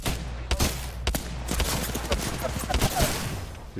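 Gunfire in Apex Legends crackles as a steady run of sharp shots, some spaced and some rapid, loud and close amid the game's noise.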